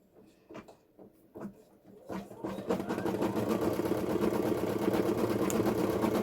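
An embroidery machine stitching a photograph starts after a few handling knocks, then its fast needle rhythm builds into a continuous close mechanical chatter.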